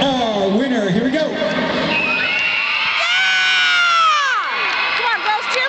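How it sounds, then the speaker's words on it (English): Crowd at a cheerleading event with cheer dads, cheering and whooping to pick a winner: excited high-pitched shouts, many of them children's, rise and fall in a loud, lively burst that swells toward the middle. "By a round of applause, let's pick our winner."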